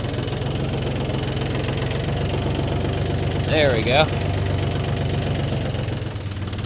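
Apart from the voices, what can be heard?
four-wheel drive tractor engine running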